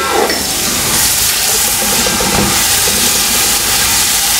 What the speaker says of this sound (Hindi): अब प्याज को मैं गरम मसाले और ऑयल में फ्राई कर लूँगी।